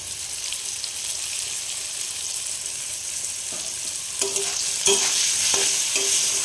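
Potatoes frying with salt and turmeric in a pan, a steady close sizzle with a few sharp clinks and scrapes of stirring toward the end, no talking.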